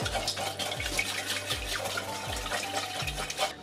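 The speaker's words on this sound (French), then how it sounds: "on va commencer par ajouter 250 ml de bouillon de légumes" Vegetable broth is poured into a pan for a quick winter vegan recipe, a steady close liquid stream with gurgling pulses repeating about every three-quarters of a second.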